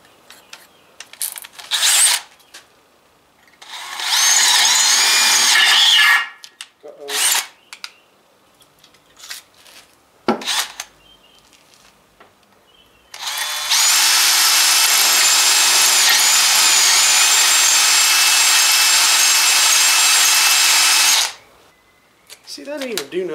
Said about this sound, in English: I went ahead and upped it to a 17/64 drill bit.